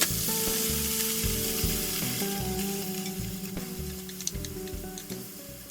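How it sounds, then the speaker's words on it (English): Onions sizzle and crackle steadily as they fry and caramelize in a pan, a close, continuous hiss with faint stirring scrapes and no voices. "I'll continue to cook them, and they'll soften and they'll caramelize."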